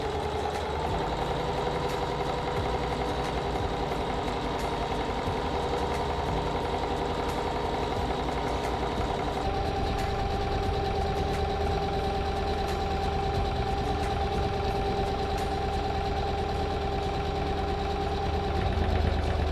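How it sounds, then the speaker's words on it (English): A sewing machine stitches tassels onto a pillowcase around its perimeter, giving a continuous close mechanical hum and rapid motor whir that holds steady throughout with no pauses. "Now I'm ready to sew all the way around the perimeter, and this is going to sew those tassels in place."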